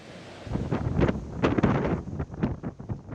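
Gusty typhoon wind sweeps through the town of Santa Ana, Cagayan, buffeting the microphone in loud roaring surges that rise and fall.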